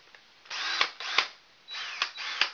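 A new DeWalt power drill backs the cover screws off an attic air handler unit in four short whirring bursts, each ending in a sharp catch, with brief pauses between them and no speech.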